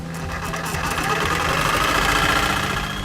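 A reciprocating saw (Sawzall) cuts through spa plumbing pipe at the 2.5 inch mark, giving a steady, loud buzzing rasp that runs the whole time with no pauses.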